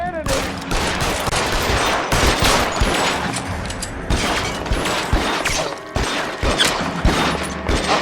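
Repeated heavy gunshot volleys in the detective game L.A. Noire, loud bursts of fire arriving in dense clusters with short pauses between them, with faint voices under the shooting.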